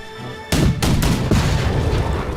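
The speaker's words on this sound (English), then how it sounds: "Artillery to soften him up." Artillery fire in a Napoleonic-era battle game: a sudden loud boom followed by a second and third blast in quick succession, the roar rolling on continuously with no voices over it.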